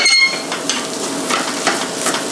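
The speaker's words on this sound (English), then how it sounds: "And then you want to go ahead and add your curry paste. Fry that until it's nice and fragrant." Curry paste frying in a pan for a striped bass curry, a close, steady sizzle with light scraping and stirring clicks throughout.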